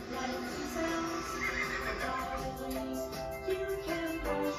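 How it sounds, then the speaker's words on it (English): A Barbie Pegasus toy horse lets out a drawn-out electronic whinny in a TV commercial, heard clearly over a bright musical backing. "Barbie Pegasus. A horse."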